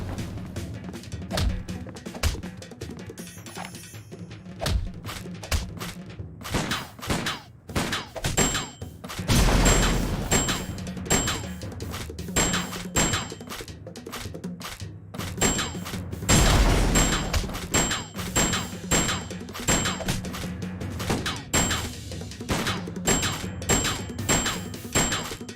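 Bursts of gunfire in the Sam & Max: Beyond Time and Space game, several loud volleys of shots and thuds spread over a long stretch, mixed with game music and effects.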